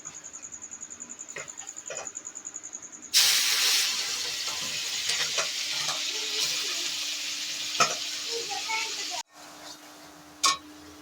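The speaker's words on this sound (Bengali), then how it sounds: "দেখো বন্ধুরা, চিংড়ি মাছের মালাইকারি রান্না হচ্ছে" Prawn malaikari with large giant freshwater prawns cooking in a pan, a loud steady sizzle that bursts in suddenly, cuts off briefly, then returns, with a faint insect-like whine and voices nearby.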